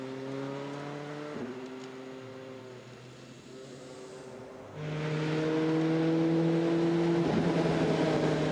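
A race car at the Le Mans 24 Hours pulls away from the Porsche curves, its engine droning steadily before swelling louder and higher as it accelerates, with no talking over it.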